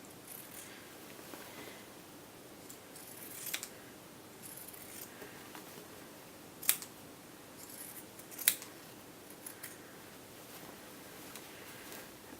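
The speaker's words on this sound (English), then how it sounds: "I'm actually going to use pinking shears to trim mine." Pinking shears snip through a dress's fabric seam allowance, giving a few faint, quiet cuts with soft crisp clicks spread across a near-silent room, no voices.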